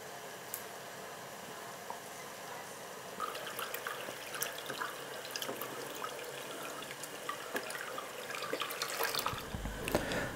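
Water trickles and drips during a small water change in a nano aquarium, faint at first and then busier, with splashy bursts near the end.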